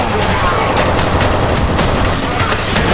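Rapid automatic gunfire in the first-person shooter F.E.A.R. Perseus Mandate, a dense continuous burst of shots at close range that fills the whole stretch with steady crackling reports.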